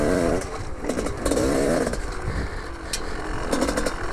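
A 2001 Gas Gas dirt bike in poor condition revs on a trail, its two-stroke engine snarling loud and close with rising and falling throttle bursts and a rough, raspy tone.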